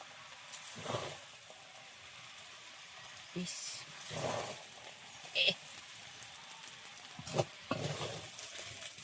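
Chicken pieces fry and sizzle in a pan for chicken chow mein, a steady hiss broken by several louder bursts of stirring and scraping close by.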